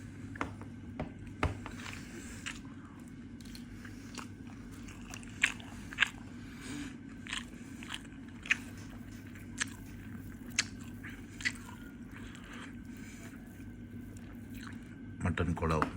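Crisp bites and chewing on fried mutton kola balls from a Dindigul Thalappakatti restaurant iftar box, soft crunches spaced out over a low, steady room hum.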